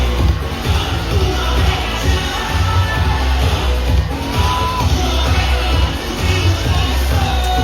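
A large crowd at an SB19 flashmob in BGC roars and cheers continuously, a dense, loud wash of voices and yells close around, with no break.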